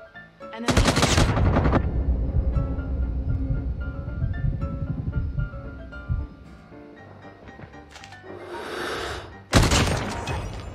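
Rapid gunfire from a shotgun in a video game, loud sustained bursts of shots with a brief pause, then another sharp blast near the end.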